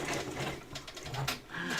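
A 10-needle embroidery machine runs steadily nearby, a continuous mechanical whir with rapid needle chatter.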